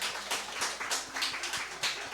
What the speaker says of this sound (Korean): 여러분 박수로 환영하도록 하겠습니다.